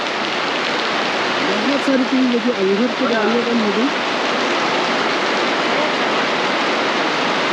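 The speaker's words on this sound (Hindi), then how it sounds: "देखिए बारिश का जो शोर है, बारिश की आवाज़ है, उसे सुनिए।" Heavy rain pours down near a waterfall, a dense continuous roar of water filling the whole scene, loud and close; someone talks briefly over it.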